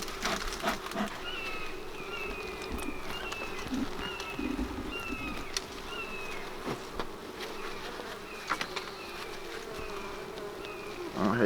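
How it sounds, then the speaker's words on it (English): Steady, dense buzzing of many bees around an opened hive close by, a continuous drone with scattered sharper tones of individual insects flying past. "Get these bees off here."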